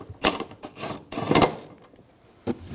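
A ratchet snugs down seat bolts in a 2009-2017 Volkswagen Tiguan during fuel pump module replacement, giving a few short, close bursts of clicking with quiet gaps between them.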